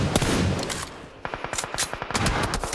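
Rapid automatic gunfire from the mobile battle royale PUBG Mobile during an esports World Cup group stage match, loud bursts of closely spaced shots with a dense, steady rhythm in the second half, after a noisier opening stretch.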